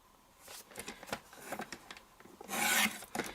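Strips of paper are cut for a Christmas fun-fold card, giving quiet, irregular scraping and rasping strokes that end in a louder, longer rub.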